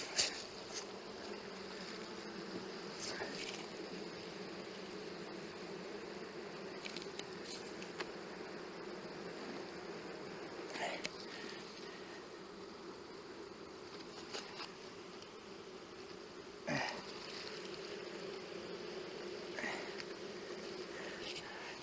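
Honey bees buzz around an open hive, a steady close hum with individual bees droning past now and then, carrying on quietly and evenly without talk.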